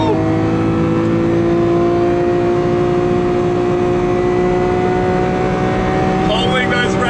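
Lamborghini Aventador SVJ V12 held at high revs on a track lap in sport mode, a loud, sustained, near engine wail with steady harmonic tone throughout and a brief shift near the end.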